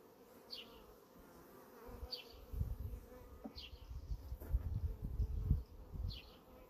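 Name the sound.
honeybees buzzing during a hive inspection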